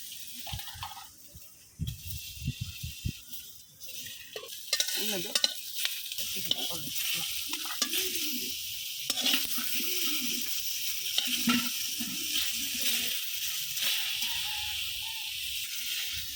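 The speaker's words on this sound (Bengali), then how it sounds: "এই যে টমেটোগুলো হালকা বাইজা নেব" Tomatoes sizzling and frying in a hot wok, with a steady bright crackle and intermittent stirring scrapes and clatter, close and fairly loud throughout with no talk.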